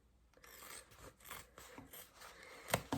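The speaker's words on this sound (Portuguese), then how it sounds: "Pode cortar o excesso de zíper" Scissors snip through the excess zipper on a handmade fabric pencil case, giving quiet, close rasping cuts with a couple of sharper snips near the end and no talking.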